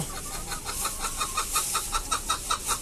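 Chickens cluck in a cage with quick, repeated, fairly soft calls close by, forming a continuous chatter.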